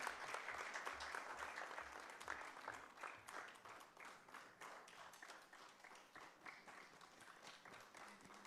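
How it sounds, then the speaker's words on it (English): Sustained crowd applause at a writing competition's season finale, continuous dense clapping that holds fairly even throughout, with a low rumble underneath. "Everybody, let's have a huge round of applause one more time."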